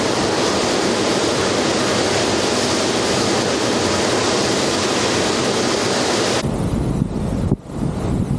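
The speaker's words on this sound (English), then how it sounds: "This is a waterfall where it runs into the sea there." Waterfall pouring into the sea beside a glacier, a loud continuous rushing roar that holds steady, then drops away sharply near the end, leaving fainter wind-like noise with a brief dip.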